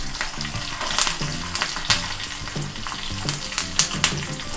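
Cumin, mustard seeds, dried red chillies and curry leaves sizzle and crackle in hot oil in a pan, a dense continuous fry with sharp spattering pops and occasional stirring scrapes, close and loud.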